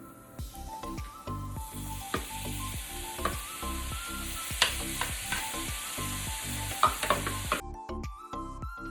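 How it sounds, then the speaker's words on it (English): Food sautes in a hot pan with coconut oil and olive oil, sizzling loudly and steadily throughout, with repeated scraping and stirring strokes over the continuous hiss. "I'm gonna saute this for about 5 minutes and check on it"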